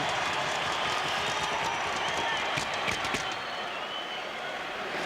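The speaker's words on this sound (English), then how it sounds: "now the crowd is back into their Reggie chant" An arena crowd at a 1991 NHL playoff game between Pittsburgh and Boston chanting for goalie Reggie Lemelin, a dense roar of many voices with scattered claps, alongside a commentator speaking.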